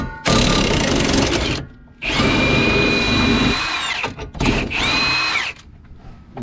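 Power tool whirring in two loud bursts, each with a rising then steady whine, as it removes a 14 mm trailing arm and lower control arm bolt from a Honda Civic Si suspension.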